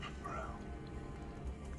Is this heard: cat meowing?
yes